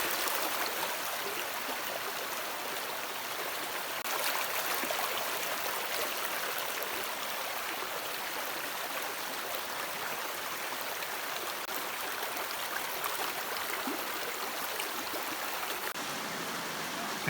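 A forest stream rushes steadily over rocks beside a rocky bank, a constant broad hiss of flowing water with no voices, unchanging throughout.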